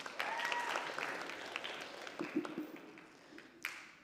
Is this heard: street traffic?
no